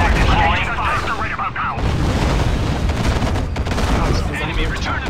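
Dense gunfire and booming artillery in the game Act of War: High Treason, a desert siege battle, rolling continuously and loud throughout with voices faintly mixed in.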